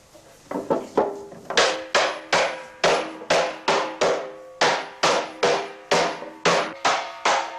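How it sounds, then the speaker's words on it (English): Loud, evenly spaced hammer blows ring out as a hoop is refitted onto a wooden barrel, about two strikes per second, close by and with no talking. "the hoop is refitted and hammered hard on each end"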